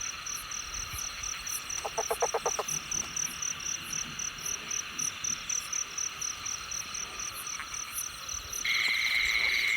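Frogs croaking in rice paddies at night, a steady rhythmic pulsing chorus with insect trills layered in, a quick burst of rapid croaks partway through and a louder trill near the end.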